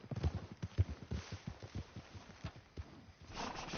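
Horse hooves clip-clop at a steady walking rhythm in Red Dead Redemption 2, a run of close, moderately soft thuds that fades toward the end.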